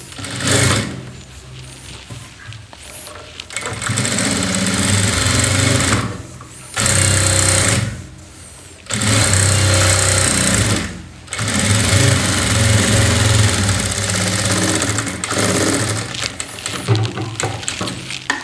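A sewing machine runs in fast, rattling bursts, stopping and starting several times, while stitching the edge of a saree blouse cup. The sound is close and loud.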